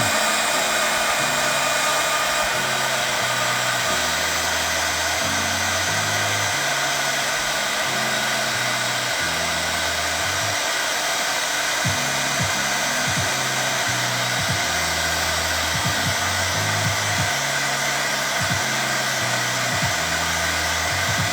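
A hair dryer drying a watercolor painting, a loud steady close-up whoosh running continuously with a low pulsing hum beneath it, no speech.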